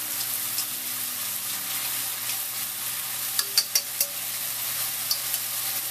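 Soy sauce splashes into fried rice for Vietnamese com chien, a steady faint sizzle in the pan with a few soft clicks of a utensil stirring.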